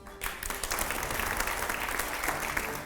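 Loud, dense applause from a large crowd, played back as a sound effect during a televised interview, with steady sustained clapping throughout and no talking.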